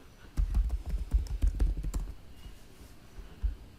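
Commands are typed on a computer keyboard in a rapid burst of close, light clicking keystrokes that then slow to a few isolated taps.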